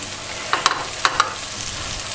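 Green onion and cabbage fry in a pan for Nepali-style thukpa under a steady low sizzle, with a few sharp stirring clacks close by and no talking.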